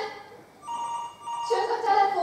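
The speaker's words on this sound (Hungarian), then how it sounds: "Csörg a telefon!" A telephone rings during a school stage play: short bell-like tones ring out at moderate volume, with a voice overlapping the later rings.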